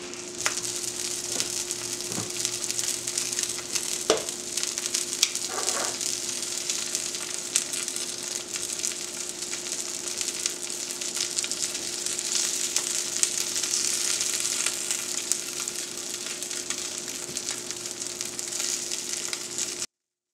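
Lobster cutlets frying in a pan, a steady close sizzle running throughout with a few sharp clicks and taps, no talking.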